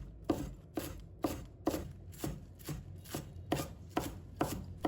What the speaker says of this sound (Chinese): 把它切成葱花